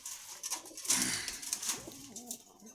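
Pigeons at a bird market in Meradia Bazar, Khilgaon, Dhaka, give soft, close coos in short bursts over quiet background bustle.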